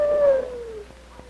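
A sled dog in a snowy Alaskan Eskimo village lets out a single loud, drawn-out howl that slides downward and fades within about a second.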